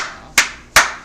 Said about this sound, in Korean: 박수를 보냅니다